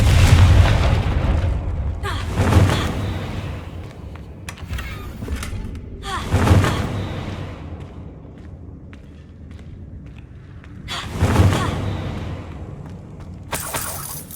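Confringo fire spells exploding in the PC game Hogwarts Legacy: three loud, deep booming blasts roughly four seconds apart, each with a crackling burst, over a rumbling game background.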